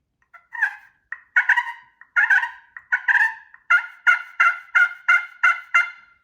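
A slate turkey call played to imitate a hen gives a series of sharp, raspy yelps, first spaced unevenly, then settling into a steady run of about eight evenly timed notes, loud and close against silence.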